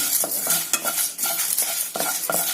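Dry chillies being heated and stirred in a pan for a chicken fry masala, close scraping and rattling of a spatula against the pan over a faint sizzle, with no talking.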